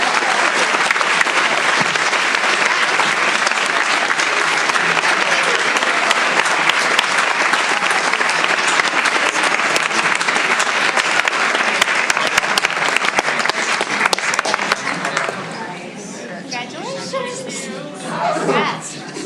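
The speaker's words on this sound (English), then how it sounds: "Please, let's give these students a round of applause." Loud, sustained applause from an audience at a school board meeting, honoring student cheer and drill athletes, a dense steady clapping that thins and fades near the end with a few voices underneath.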